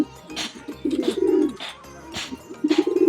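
A racing pigeon coos in repeated low, throaty phrases, several rolling bursts close to the listener with brief pauses between them, at a north race training loft in Meycauayan, Bulacan.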